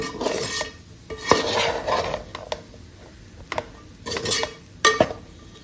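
A spoon stirring chana dal puran with ginger and cardamom powder in a metal pot, giving scraping, clinking strokes with sharp knocks against the rim at irregular intervals, close up, with no talking.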